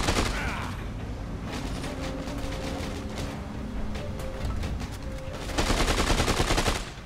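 Rapid bursts of gunfire from a player's weapons in the video game Dead Rising 2: Off The Record, dense and continuous over game noise, with a louder flurry of shots near the end.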